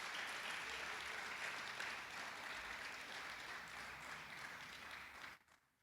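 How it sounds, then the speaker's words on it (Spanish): A church congregation applauds during a sermon, a steady, dense wash of clapping from many hands that holds evenly for several seconds and then cuts off abruptly near the end. "¿Le parece si le damos un aplauso al Señor por todo esto?"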